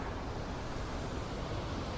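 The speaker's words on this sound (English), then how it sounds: "The winds are gusting to like 30 miles an hour." Steady rushing wind, gusting to about 30 miles an hour in a vineyard, roars across the microphone, a dense continuous noise with no pauses or other sounds.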